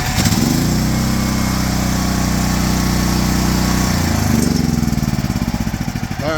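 A Predator 13000 watt generator running on propane fires up and settles into a loud, steady engine drone with a buzzy mechanical rumble, close up and without speech.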